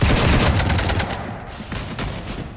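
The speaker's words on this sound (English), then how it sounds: "You want to stop shooting up my ship?" Rapid bursts of automatic weapon fire from Mass Effect 3 crackle close and loud, sharp repeated shots in quick succession with a brief lull and a final flurry, no voices heard.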